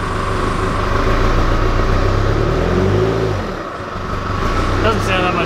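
An RG Holden Colorado ute with a freshly fitted 4-inch stainless snorkel revs up from idle, its engine note climbing briefly then easing off, close by, while people talk over it.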